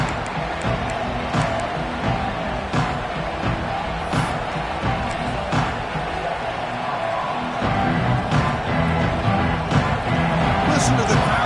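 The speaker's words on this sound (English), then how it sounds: "Listen to the crowd energy here in the early going." A football stadium crowd roars with steady, swelling cheers throughout the Texas vs Oregon game, while a commentator talks over the noise.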